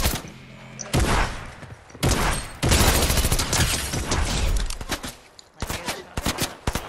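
Video game gunfire in dense rapid bursts, loud and close, with heavy thumping volleys and brief lulls between them.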